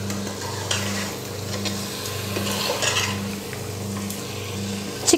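Large chicken pieces cook in oil for Ambur biryani, giving a soft, steady sizzle with occasional stirring clinks over a low, pulsing hum.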